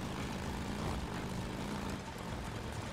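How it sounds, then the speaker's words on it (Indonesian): Helicopter flight in the video game Days Gone, a steady loud whirring roar of rotor and engine noise that fills the whole stretch evenly, with no talk over it. "enak banget pakai helikopter"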